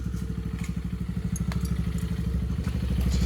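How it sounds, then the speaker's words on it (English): A Tao Motors GK110 mini kids go-kart engine runs on a floor jack at a steady idle, a close, rapid, even putter of exhaust pulses with a faint mechanical clatter and a slight rise in level toward the end. "We kept it on the floor jack to test run it"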